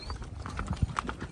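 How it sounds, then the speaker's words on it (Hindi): Horse hooves clip-clopping over rough, rocky ground along a mountain trail in Sonmarg, Kashmir, with several uneven close thuds in quick succession over outdoor background noise. "घोड़े पे चढ़ के वीडियो बना रहा हूँ आप लोगों के लिए,"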